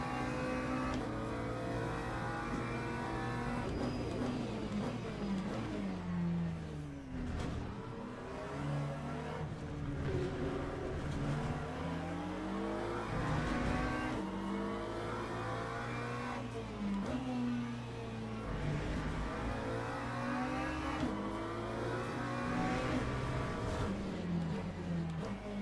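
Race car engines in Le Mans Ultimate, a BMW among them, rev and shift repeatedly in close racing, a steady loud roar with rising and falling pitch sweeps throughout.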